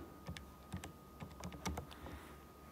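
Quiet, close typing on a keyboard during a geometry lesson, a few short bursts of separate key clicks in an uneven rhythm against a soft background hum.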